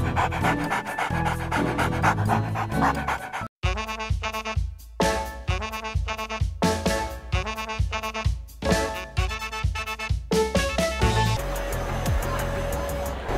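Dogs panting in quick, rhythmic breathy bursts, close and loud, with a short pause partway through and no voices.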